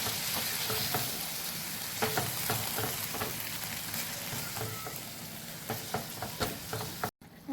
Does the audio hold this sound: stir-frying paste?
yes